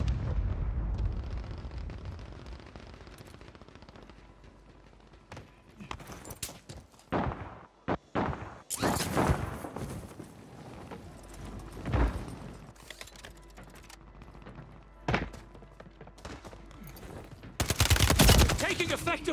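A multiplayer shooter video game with loud scattered gunshots and booming explosions, irregular bursts and heavy blasts over a rumbling background, with sparse voices.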